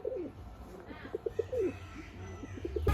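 Pigeons coo on a pigeon farm, a run of soft, low, rounded calls in repeated short pulses, fairly close, with faint background rumble and no talk.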